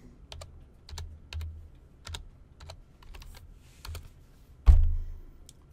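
Typing a username and password on a computer keyboard, close crisp key taps in short bursts with brief pauses and one louder final keystroke near the end.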